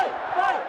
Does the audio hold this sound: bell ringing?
no